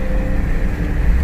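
A BMW F80 M3 engine runs as a steady, full-bodied low rumble, loud and close, holding an even drone with no voices over it.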